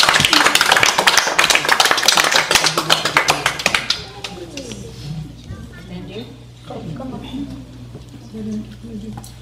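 A prayer group claps loudly and rapidly at close range for a few seconds, then the clapping stops and people talk over a quiet room hum.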